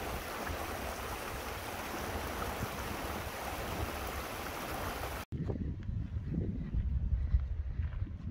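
Mountain creek water rushing along Lamoille Creek in a Nevada canyon, a steady broadband roar for about five seconds, then an abrupt cut to a quieter outdoor scene with softer water and wind rumble.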